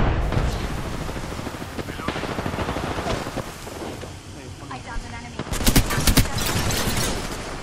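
Gunfire and explosions in the Apex Legends video game: dense rapid shots and blasts rattle throughout, with a louder cluster of sharp bursts near the end, mixed with a voice talking over the action.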